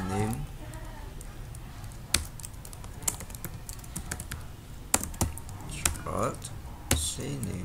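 Fingers typing on a computer keyboard, scattered clicks and taps in uneven bursts, close and clear, with a voice speaking at times.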